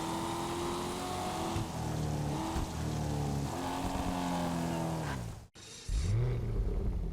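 The Coquette D1 supercar in GTA Online revs hard through its gears with a steady rising engine howl, then cuts out abruptly in a sharp backfire before the engine picks up again, loud and close.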